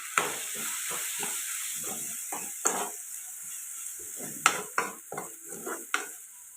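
Tomato pieces and turmeric frying in a pan are stirred with a spoon, producing a soft continuous sizzle broken by rhythmic scraping strokes and a few sharper taps on the pan. No one speaks.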